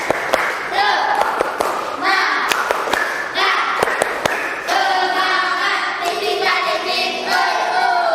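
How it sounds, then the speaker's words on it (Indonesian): Schoolchildren in a classroom perform a rhythmic 'tepuk semangat' spirit clap, quick patterned claps and slaps in bursts, joined by chanting voices throughout. "Yuk, tepuk semangat."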